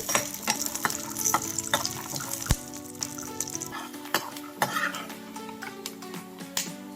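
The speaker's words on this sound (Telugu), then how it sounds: "వేరుశనగ గుళ్ళు వేయించుకోవాలి ఇవి చిట్లీ బ్రౌన్ కలర్ వచ్చేదాకా వేయించుకోవాలి" Peanuts frying in oil in a pan until they crack and turn brown, giving a steady sizzle with frequent sharp pops and clinks of stirring against the pan.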